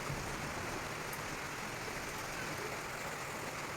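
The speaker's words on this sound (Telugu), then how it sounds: "వర్షం చూసి వర్షం దంచి కొడుతుంది" Heavy rain pours steadily outdoors, a dense, even hiss that holds without pause throughout, moderately distant and unbroken by other sounds.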